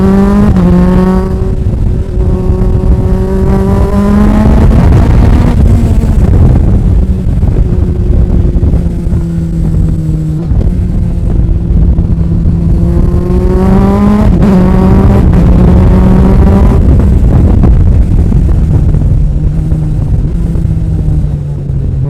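Suzuki Hayabusa-powered MK Sportscars Cup 200 racecar driving on a public road, its loud engine rising and falling through repeated revs and gear changes, steady and close throughout with wind rush.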